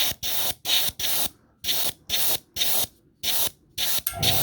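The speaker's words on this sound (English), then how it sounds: "just got the airbrush here, try and do this" An airbrush sprays paint onto the metal strap of a mud flap, a close, loud hissing in short repeated bursts with brief pauses between passes.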